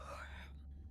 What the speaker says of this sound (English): Was that a yawn?